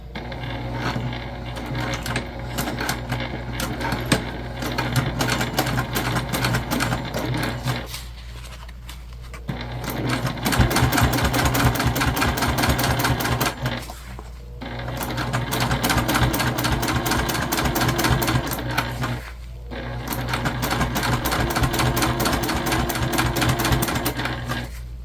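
Sewing machine running in long steady bursts while top stitching a fluffy pencil pouch at an eighth-inch seam, a close, even mechanical whir with brief pauses between runs.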